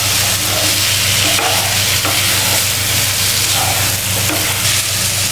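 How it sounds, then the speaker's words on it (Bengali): Cauliflower and tomato stirred in a hot pan, a continuous sizzle with scraping spoon strokes over a steady low hum, close and loud with no talking. "ফুলকপি আর টমেটো দিয়ে ভালো করে মিশিয়ে নেব।"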